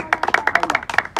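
A rapid run of about a dozen sharp hand claps comes close and loud in an uneven rhythm, with a short pause before the last few.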